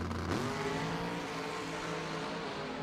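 A drag racing car runs at US 60 Dragway in Kentucky, a loud, sustained engine blast that rises in pitch after launch, continuous and fairly close.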